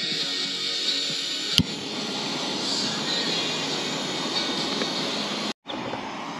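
A Jetboil camping stove burner roars steadily outdoors on a backpacking trip, a continuous close-up hiss with a brief click near the start and a short cut-out before it resumes.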